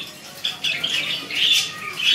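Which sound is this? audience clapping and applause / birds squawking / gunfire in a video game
birds squawking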